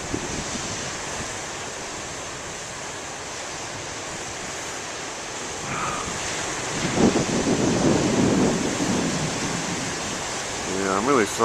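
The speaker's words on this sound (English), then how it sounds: "The waves are really disappointing today" Moderate ocean waves wash and break on the shore under strong wind noise buffeting the microphone, the surf swelling louder toward the end.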